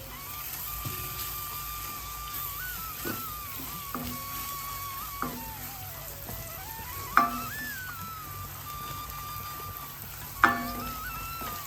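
A pan of spices with asafoetida and fenugreek powder being stirred for rasam, giving a low steady sizzle with intermittent sharp scrapes and clinks of the spoon against the pan.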